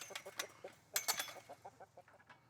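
Chickens on a farm clucking in quick irregular bursts, faint and nearby, with a short louder squawk partway through.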